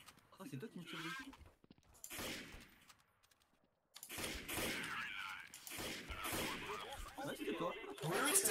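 Gunshots in Counter-Strike Source crack out in bursts, interrupted by a short quiet gap, while players talk over the firing.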